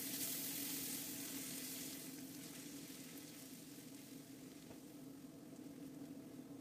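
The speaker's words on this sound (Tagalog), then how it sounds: "Pag nag-brown na ang color nito ay ilagay ang garlic at igisa ng 1 minuto." Garlic sautéing in hot oil in a pan, a loud continuous close-up sizzle that holds steady and eases slightly after the first couple of seconds.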